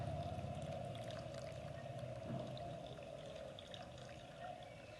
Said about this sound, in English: Fill the glass with water up to the mark.